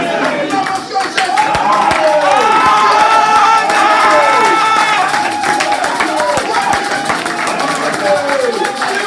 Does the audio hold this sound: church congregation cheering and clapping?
yes